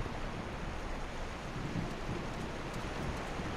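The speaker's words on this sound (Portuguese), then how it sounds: "Tá trovejando com força, hein?" Heavy rain pours in the video game The Last of Us Part II as a dense, even hiss with a faint low rumble underneath, steady and unbroken with no voices.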